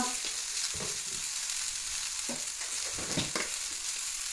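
Chicken gravy frying in a pan, a steady, dense sizzle close up, broken by soft scraping stirs every second or so.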